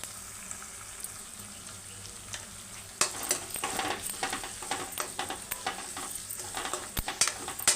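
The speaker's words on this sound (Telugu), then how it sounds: "ఇప్పుడు ఉల్లిగడ్డ, కరివేపాకు వేసుకుంటాం. బాగా వేగినాక కొద్దిగా పసుపు వేస్తున్నాం." Onions and curry leaves drop into hot oil in a pan and sizzle, the frying jumping up sharply partway through with crackles and stirring clatter close by, and no talk.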